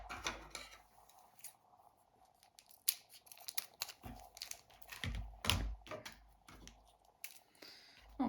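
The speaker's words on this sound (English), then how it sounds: "Get this little bag of fertilizer cut open." A small plastic bag of miniature fertilizer is snipped and torn open, with scattered crinkles, sharp cuts and rustling handling noises coming in irregular bursts close by.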